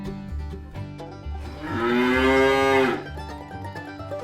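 A toy farm cow gives a loud, drawn-out moo lasting about a second and a half, rising over light background rustling during a children's farm play set.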